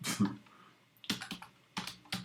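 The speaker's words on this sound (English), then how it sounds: "Anyway, so they're typing." Several short bursts of keystrokes on a computer keyboard, quiet and close, with pauses between clusters and no speech.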